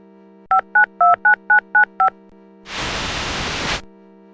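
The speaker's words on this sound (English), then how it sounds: "My new vid phone is essential to my business. Thank goodness it's easy to operate." A vid phone in the video game Tex Murphy: The Pandora Directive dials a number: seven crisp, evenly spaced touch-tone beeps over a low hum, then a burst of loud static.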